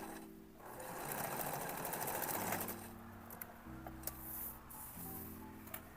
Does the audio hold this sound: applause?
no